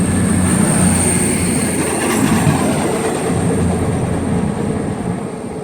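A train rolling through Oxford or Didcot Parkway station, a loud continuous rumble with a steady high wheel squeal over it, close and unbroken, easing slightly toward the end.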